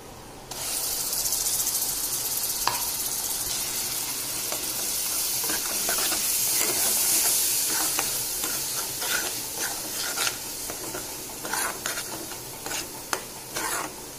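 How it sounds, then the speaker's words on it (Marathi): Ground masala paste sautéing in plenty of oil for a village-style drumstick curry: a loud, steady sizzle runs throughout, with sharp scraping ladle strokes against the pan growing more frequent toward the end. "म्हणून आता याच्यावर मी वाटण परतणार आहे."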